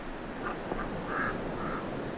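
Ducks quacking in a farmyard chicken run after a storm in New Hampshire, a few short quacks in a quiet outdoor setting, faint and moderately distant.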